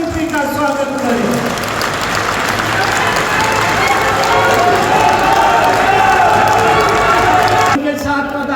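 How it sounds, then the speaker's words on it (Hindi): A large crowd at an outdoor political rally for the chief minister in a vegetable market applauding continuously, dense loud clapping with cheering, a voice heard briefly at the start and end. "खड़े होकर के ताली बजा करके अपने महबूब मुख्यमंत्री का स्वागत करें"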